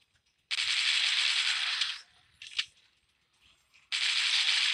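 Bursts of rapid automatic machine-gun fire from the zombie shooter game Dead Trigger: a sustained volley, a short pause with a couple of metallic clinks, then another burst, crisp and up close.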